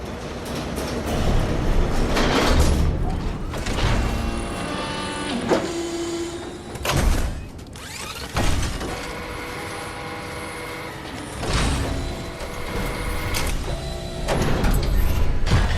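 A door opens in the video game Kingdom Hearts III, a mechanical rumbling and grinding with rattling and whirring that rises and falls over several surges amid game music and effects, with no voices.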